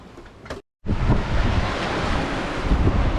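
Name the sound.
sailboat sailing in strong wind and waves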